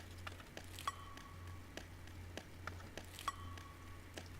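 A quiet Foley-style trap percussion loop run through a compressor: soft, dry clicks and taps tick in a steady pattern over a low hum, with a couple of short, brighter ringing hits, no voices.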